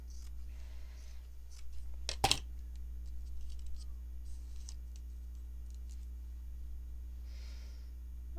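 Scissors cutting lace for a junk journal, heard as one sharp close snip with a quick double click, otherwise faint rustling over a steady low hum.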